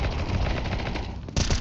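Rapid exchange of gunfire in a Counter-Strike 2 tournament match: dense, loud automatic bursts firing without pause, close and sustained, with no voices.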